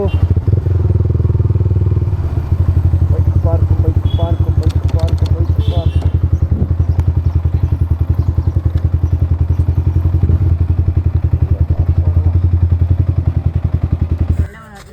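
A motorcycle engine rumbles close and steady with a fast pulsing beat for the whole stretch during a ride to Sirsi Marikamba Temple, voices briefly audible, then cuts out at the end.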